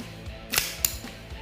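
Two sharp snapping blowback shots from a KWC PT92 airgun fired without a BB, crisp close clicks about a quarter second apart with the slide clacking, no talk.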